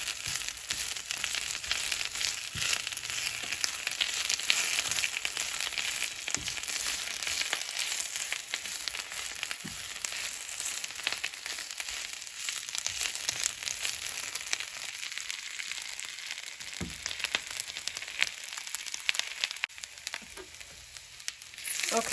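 Spinach fries and wilts in a hot pan for a keto quiche, giving a loud, steady sizzle throughout with occasional soft stirring rustles and clicks close by, no voices.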